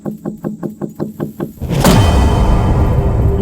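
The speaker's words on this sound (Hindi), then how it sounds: "तभी कार की विंडो पर जोर से खटखटाने की आवाज आई।" Loud knocking on a car window: a quick series of about eight sharp raps, each a bright thump close by, followed by a sudden burst of broad rumbling noise.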